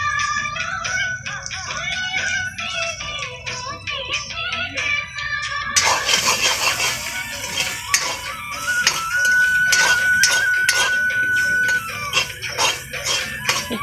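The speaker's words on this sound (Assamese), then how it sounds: "এতিয়া সুন্দৰকৈ লৰাই দিছে।" A spoon stirs curry with cumin powder and meat masala in a pan, giving irregular scraping and clinking under kitchen clatter, with a sharper, busier stretch in the second half.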